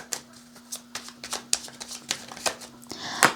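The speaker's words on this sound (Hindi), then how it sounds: "मैं जब ये कार्ड शफल कर रही थी ना" Tarot cards being shuffled by hand: a quick series of crisp riffling snaps and soft card slaps, close and fairly quiet, with no talking.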